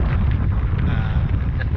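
Strong wind buffets the microphone on a mountaintop at Gulod Campsite in Tanay, Rizal, in a continuous low, rumbling roar, loud and close throughout.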